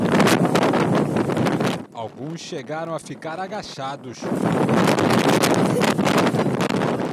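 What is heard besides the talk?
strong wind at Christ the Redeemer, Rio de Janeiro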